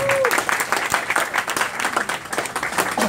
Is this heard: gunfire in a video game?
no